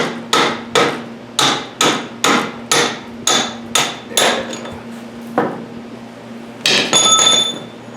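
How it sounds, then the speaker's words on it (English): Metal tool tapping a rear axle part on an Arctic Cat snowmobile, about ten sharp, ringing hammer strikes in a steady rhythm, close and loud, then a pause and a final clattering hit. "so I'm just going to get a tool and see if we can tap that out of there"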